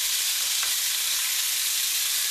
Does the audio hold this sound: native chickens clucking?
no